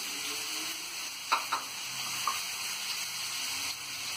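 Onions, green chillies and curry leaves sauté in hot oil for hotel-style kothu porotta, giving a steady close sizzle with a few light utensil clinks and no talking.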